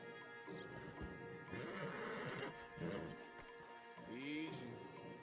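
A horse whinnies and snorts in Red Dead Redemption 2 among several stallions, with hoof clatter and a crash, while someone speaks calmly over the animals.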